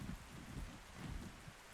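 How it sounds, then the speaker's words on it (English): Steady rainfall in the video game ARK at night in fog, a faint continuous hiss of rain with low rumbling underneath and no talking. "Oh, now it's raining and it's dark and it's foggy."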